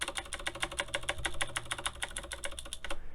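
Typing on a Razer BlackWidow Elite mechanical keyboard with slightly wobbly stabilizers, a brisk, even run of close, clicky keystrokes heard alone.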